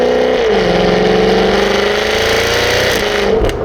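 Jaguar F-Type Project 7 roadster, its exhaust loud and close, a deep throaty drone that rises in pitch under acceleration and then backs off near the end.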